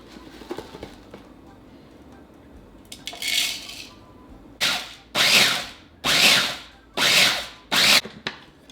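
A food processor blitzes regular oats in a series of about five short, loud grinding pulses, each lasting roughly a second with brief pauses between, after quieter handling sounds at the start.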